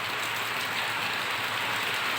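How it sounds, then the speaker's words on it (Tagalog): Rain falls steadily on a house roof beside a narrow alley during a storm, a constant soft hiss of drops with no voices. "pumapatak na naman ang ulan sa bubong ng bahay"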